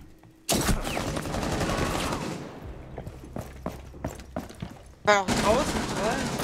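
Gunfire in Rainbow Six Siege, a sustained loud burst of automatic shots followed by scattered single cracks and another sharp volley near the end, with a voice speaking over the game sound.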